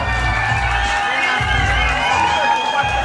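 At a live party show in Ruse, a crowd cheers and shouts for the performer while an amplified voice talks over them and loud music with a thumping bass carries on beneath.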